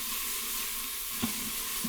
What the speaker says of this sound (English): So we're going to soften these onions up, cook them till they're translucent.